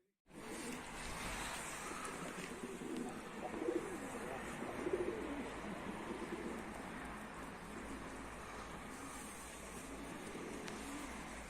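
A Mardin play pigeon returns to its coop, with a steady, close wash of rustling air and flutter and a few soft coos rising briefly in the middle.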